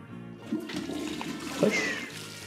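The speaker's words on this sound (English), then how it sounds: "Flush." A toilet flushes in the Luigi's Mansion 3 video game, a close gush of swirling water with a couple of gurgling bursts partway through, loud and uninterrupted by speech.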